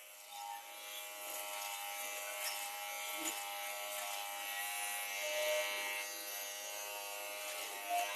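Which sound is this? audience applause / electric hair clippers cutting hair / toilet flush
electric hair clippers cutting hair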